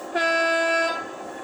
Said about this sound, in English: Function 4 is a high tone air horn.